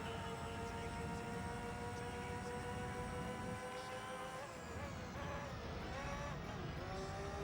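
A Formula 1 car engine in Gran Turismo 3 holds a steady, buzzing drone with a stuttering quality in the 4,000 to 6,000 RPM range, continuous and fairly faint, with no talking.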